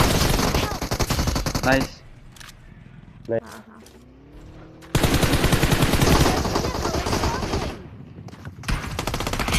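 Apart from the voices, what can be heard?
gunfire in a video game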